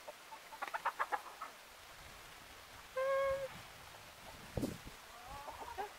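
Backyard chickens, including red hens, give a few scattered clucks and short calls at moderate distance, with quiet gaps between them and no talking.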